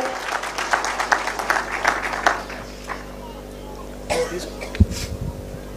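Crowd at a funeral gathering honoring a Kenyan politician's mother claps in a moderate, scattered burst that tapers off after a couple of seconds, followed by quieter murmurs and a single sharp thump near the end.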